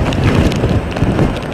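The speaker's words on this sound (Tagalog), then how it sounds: "Pero ganyan pa rin kalakas yung mahangin." Strong typhoon wind during Typhoon Yolanda, a loud continuous roaring gust battering the microphone with rain-like hiss, dense and unbroken close up.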